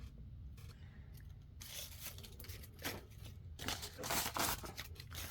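Scissors snipping through faux leather journal material, a run of crisp close cuts and scraping that grows busier toward the end, quiet and without speech.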